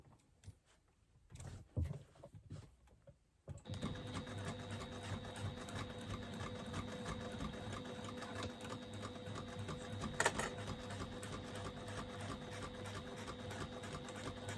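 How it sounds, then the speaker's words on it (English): After a few quiet handling clicks, a sewing machine starts and runs continuously for several seconds, a steady close mechanical whir while stitching through all fabric layers with a 3/8-inch seam. "I'm going to stitch across there using a 3/8 of an inch seam allowance, going through all of the layers."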